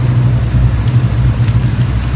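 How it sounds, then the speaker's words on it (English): A car on the road, heard as a steady low engine and tyre rumble that holds close and fairly loud for the whole stretch, with no talking over it. "Oh, there's a car coming."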